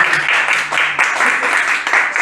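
A church congregation applauds in a continuous, dense wash of clapping, loud and close, with voices mixed into the crowd noise.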